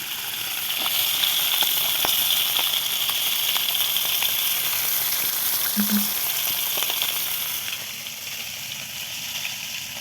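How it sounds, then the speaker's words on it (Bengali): Fish fries steadily in oil in a wok, a continuous close sizzle with fine crackles running throughout the whole stretch and no talking. "মাছ ভাজা হয়ে গেছে দেখেন কত সুন্দর করে মাছটি ভাজছে"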